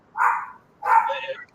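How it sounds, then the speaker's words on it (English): A dog barks twice, two drawn-out, somewhat yelping barks close by with a short pause between them. "we'd have our dog barking now because your dog is barking"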